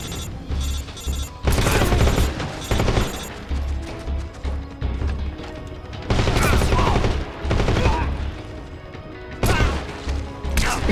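Repeated bursts of gunfire in the Metal Gear Solid video game, loud rapid volleys separated by short gaps over a backdrop of game music and effects.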